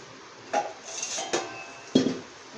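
Three metallic clanks of a lid being set and adjusted on a pot steaming wheat-flour modaks, each a short clink spaced under a second apart.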